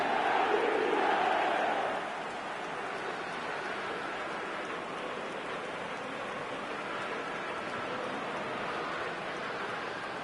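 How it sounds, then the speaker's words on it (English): Football stadium crowd at a World Cup match, a broad roar that swells loudly at first after a near miss by the goal frame, then settles into a steady, sustained crowd murmur lasting the rest of the moment. "the crowd are reacting to that now"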